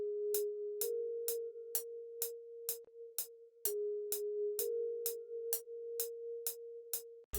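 A dry synth lead with no effects, made for a Trippie Redd-style "BIG 14" beat, plays a simple melody of sustained tones that step between a few nearby pitches, each note starting with a crisp attack in a steady rhythm.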